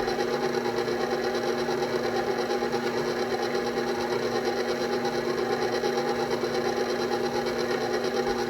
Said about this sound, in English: For our mixer, we're going to raise it up. And we are going to blend that mixture together.